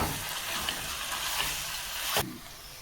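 Ginger garlic paste sautéing in oil for chicken chukka, a loud broad sizzling hiss that runs steadily and then drops off abruptly near the end, close up.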